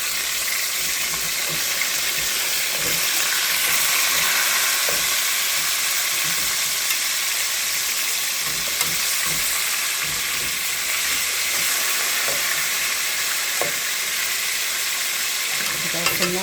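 Oxtails fry in a pan, a loud continuous sizzle with scattered clinks and scrapes as the pieces are turned over close by.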